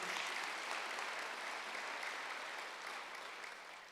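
Sustained applause from a church congregation at a Wednesday worship service, a dense, even clapping that fades gradually toward the end.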